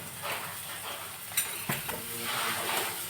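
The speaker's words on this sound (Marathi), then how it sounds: "मागीर तितून कांदो घालपाचो मातशें गरम जातकीर।" Onions fry in hot oil for Goan-style prawns sukha, a close, steady sizzle with a couple of sharp utensil knocks against the pan.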